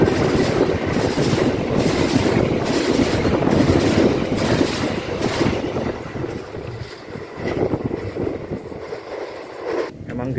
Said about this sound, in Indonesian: Di stasiun Bojong juga ini masih bisa kenceng loh kereta api Argo Wilis.